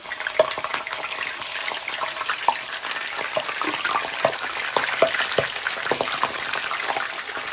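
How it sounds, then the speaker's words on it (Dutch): Kandratiki fish frying in a pan until lightly browned, for a Surinamese curry: a dense, steady sizzle close by, full of sharp crackles and pops, continuing without speech. "We gaan de vis natuurlijk eerst een beetje bakken."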